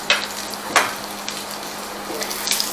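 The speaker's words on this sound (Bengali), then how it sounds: "এখন এই পেঁয়াজ রসুনকে ভালো মতো ভাজতে হবে।" Onion and crushed garlic frying in a pan for khichuri, giving a continuous crackling sizzle with a few sharp clinks of the spatula against the metal.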